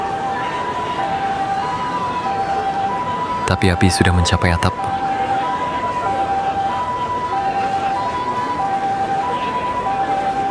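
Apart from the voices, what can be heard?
fire engine siren arriving at fire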